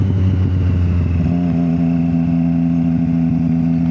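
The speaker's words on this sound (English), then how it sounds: "But it's how you rev match." A car engine revs and settles as the driver downshifts with rev matching, a steady mid-pitched drone with a brief blip up front before holding an even, close tone throughout.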